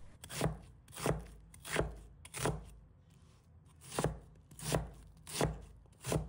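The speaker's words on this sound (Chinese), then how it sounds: "再准备小块的洋葱，把它切成小块。" A knife chopping onion into small pieces on a board, eight loud, evenly spaced thuds with a short pause in the middle, close and clear without any voice.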